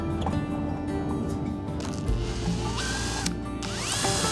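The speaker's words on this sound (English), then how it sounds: "I want to drill the holes before priming and painting." A power drill whines and grinds steadily while boring holes in boat chain plates, the motor pitch rising and falling as the bit bites, with mechanical clicks and a squeal near the end.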